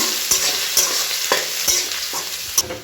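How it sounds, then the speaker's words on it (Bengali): Panch phoron, dry red chilli and crushed ginger-garlic paste fry in hot oil, a loud continuous close sizzle broken by regular spatula scrapes against the pan about every half second. "একটু ভাজা ভাজা করে নেব"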